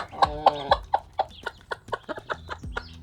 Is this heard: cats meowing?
no